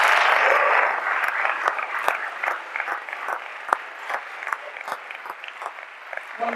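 Audience applause at the close of a talk, a dense wash of many hands clapping that starts loud and full, then thins into scattered, uneven claps toward the end.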